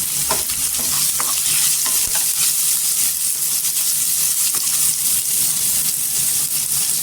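Onion and asafoetida frying in a pan for a potato curry give a steady, loud sizzle with crackling pops and the scrape of stirring running throughout, with no voices.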